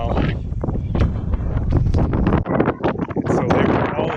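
Gusty wind buffets the microphone during a motorcycle ride in New Jersey, producing continuous loud low rumble and broadband roar with rapid fluctuations and brief dips throughout.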